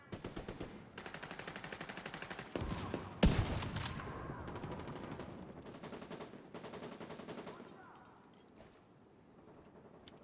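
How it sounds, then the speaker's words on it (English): Rapid automatic gunfire crackles in a video game as enemies shoot at the player, steady bursts running for several seconds with a single sharp louder shot midway, then tapering to fainter scattered shots. "Something is shooting at me."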